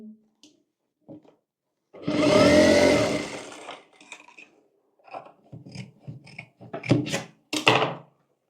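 A sewing machine runs in one steady burst of about a second and a half while stitching pleats into a dhoti, followed by shorter handling noises and brief fabric rustles close by.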